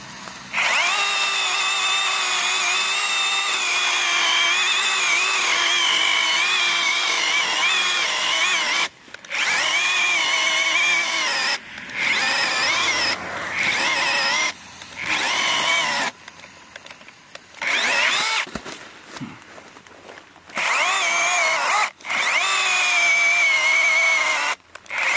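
A DEKO DKCHS 20V cordless chainsaw cutting through wood, a loud, steady high-pitched motor whine in long bursts that drop out briefly several times as the cut pauses, with no talk.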